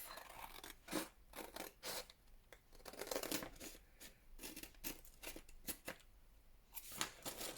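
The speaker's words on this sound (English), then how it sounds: "get the scissors on, cut the edge off" Scissors snip through paper in a series of short, crisp cuts, some quick and close together, with a rustle of paper between them.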